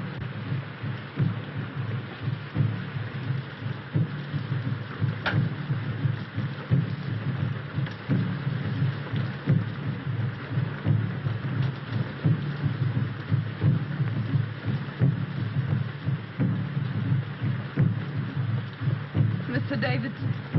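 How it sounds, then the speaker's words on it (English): Steady heavy rain with low thunder rumbles forms a dense, continuous wash in a film soundtrack, with a deep pulsing beat beneath it throughout. "This rain and those drums."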